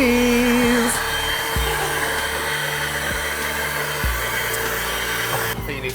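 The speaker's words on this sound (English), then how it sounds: "Vacuum my Rhodes, please." A vacuum cleaner runs loudly and continuously while cleaning a Rhodes Stage 61 electric piano in a factory, its steady motor whine shifting slightly in pitch as the nozzle moves, with no speech over it.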